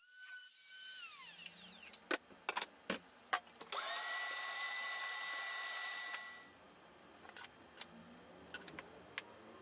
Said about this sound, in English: I use a 45-degree bevel bit to bevel the inside of the woofer openings for better airflow